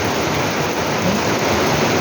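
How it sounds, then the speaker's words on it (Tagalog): Loud, heavy rain from a typhoon pouring down in a thick, roaring wash, close and continuous, with a low rumble underneath, flooding the ground. "Grabe naman itong ulan natin."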